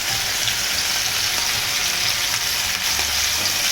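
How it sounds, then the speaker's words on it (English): Potatoes for aloo fry crackle and sizzle in a hot pan, a dense, loud and unbroken frying hiss with faint low knocks from the pan beneath it. "I'm going to throw in these potatoes."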